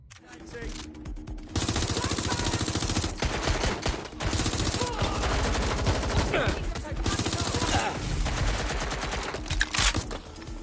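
Dense gunfire in Watch Dogs: Legion, with sustained automatic bursts and single shots, loud and near, under shouted voices.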